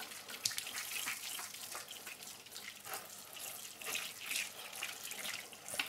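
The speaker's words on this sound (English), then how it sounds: "I'll water it now and then I'll give it another water in a bit." Water sprinkles steadily from a watering cap onto seeds sown in compost, a soft patter that stays close and fairly quiet.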